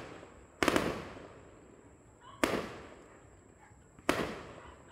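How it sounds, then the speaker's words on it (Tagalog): Three loud fireworks bursts, each a sharp crack that decays into crackling over about a second, spaced roughly two seconds apart against a quiet background. "Wala, putukan na."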